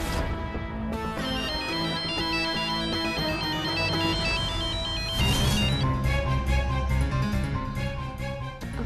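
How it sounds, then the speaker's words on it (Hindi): A mobile phone plays a melodic ringtone continuously and loudly, with its tune shifting partway through and no talk over it. "अब ये क्यों फोन कर रहा है मुझे?"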